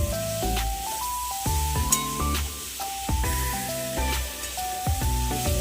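About one and a half cups of water go into a hot pan of cooking sambar dal, raising a hissing, sizzling spray beneath steady background music with clear melodic notes.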